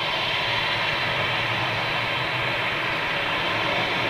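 A Boeing 777 jet airliner with GE90 engines roars steadily from a distance, a constant broad engine rumble with no rise or fall and no talk.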